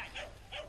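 A sheepdog at a herding contest in Castellar de n'Hug gives two short, high whimpering yips, spaced about a third of a second apart, over faint outdoor background noise.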